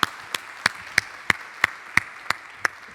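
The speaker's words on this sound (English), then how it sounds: "Could we give Cheru a round of applause?" At the Ubuntu Summit 2024 conference, a round of applause for a speaker comes through as about nine sharp, evenly spaced claps in a steady rhythm, close and distinct rather than a blended crowd.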